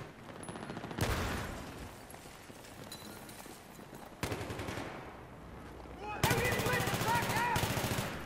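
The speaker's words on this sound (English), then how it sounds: "What is shooting at us?" Gunfire in the Battlefield 3 video game, sustained automatic bursts that surge in loudness at intervals, with a dense close volley near the end over battle noise.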